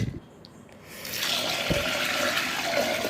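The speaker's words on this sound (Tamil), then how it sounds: "இது கூட இப்போ நம்ம தண்ணி ஆட் பண்ணிக்கலாம்." Water pours steadily into a pot of washed lentils for Tamil dal curry after a brief clatter, a continuous splashing rush filling the rest of the clip.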